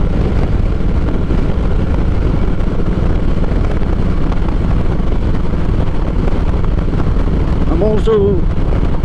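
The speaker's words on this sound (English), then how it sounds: "there is a bit of wind around, as there always is on the highway" Steady, loud wind roar buffets the microphone throughout, a constant rushing drone from riding a motorcycle at highway speed, just over 100 km/h, with no talking.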